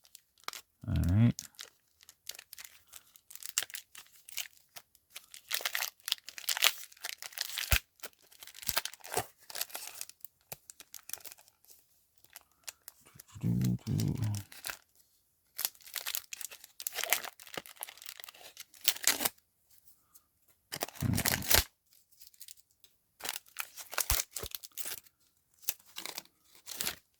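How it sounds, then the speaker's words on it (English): A 1990 Leaf Series 1 baseball card pack wrapper is torn and crinkled in several separate bursts of crisp foil tearing and crumpling, with quiet gaps between, recorded close and fairly soft. "So, pack was really, really hard to open."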